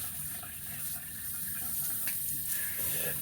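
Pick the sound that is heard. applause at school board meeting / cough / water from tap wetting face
water from tap wetting face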